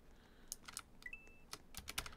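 Quick bursts of computer keyboard typing from a Roblox gaming session, with irregular clustered keystrokes played alone and fairly quiet.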